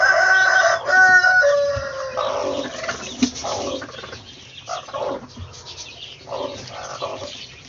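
A hen clucks near her eggs in a home egg-hatching setup, giving a run of close, fairly loud clucks and throaty calls with short pauses and other fowl murmuring in the background.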